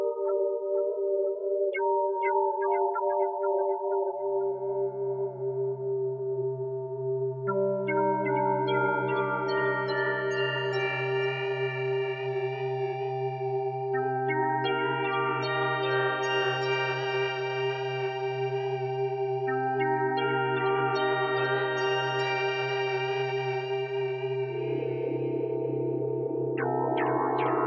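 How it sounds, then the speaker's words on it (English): A Hydrasynth synthesizer patch plays a sustained, shifting melodic line over a held low drone, its notes smeared and repeated by a moving delay effect in a long, continuous passage with no talking. "And we got this moving delay."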